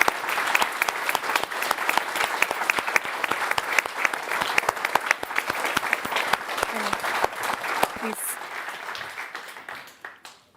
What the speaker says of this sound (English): give them a very warm round of applause